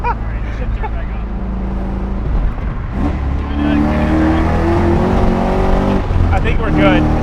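An LS L33 V8 engine swapped into a Nissan S13 240SX coupe that has just stalled, restarting and settling into a loud, rough idle with a rising hum of revs, while people talk over the running engine.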